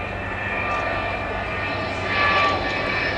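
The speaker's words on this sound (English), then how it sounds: "Avro Vulcan B2." An Avro Vulcan B2 jet bomber passes at the 2011 Waddington air show, a broad steady engine roar that swells slightly toward the end, moderately distant.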